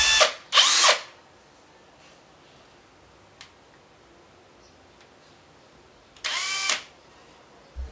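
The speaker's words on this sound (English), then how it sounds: "I am using here a portable drill press" A portable drill press bores holes in the rod of an SR Suntour Axon bicycle suspension fork, heard in three short, loud whirring bursts separated by quiet pauses with faint ticks, close by.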